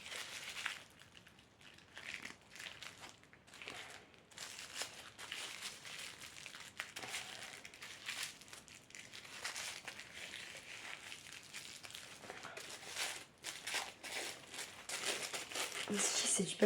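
Paper wrapping on an advent calendar door crinkles and tears in repeated bursts, close and fairly loud, with a person talking intermittently over the crumpling.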